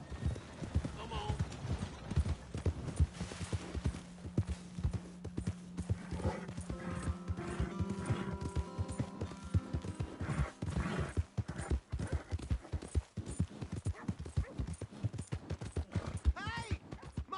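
Horse hooves clip-clop in a steady, close rhythm in the Western open-world game Red Dead Redemption 2, with a brief whinny and a voice talking over the hoofbeats.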